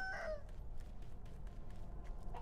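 A brief chicken squawk opens the moment in Sekiro: Shadows Die Twice, followed by faint scuffling and soft repeated thumps of combat in the background.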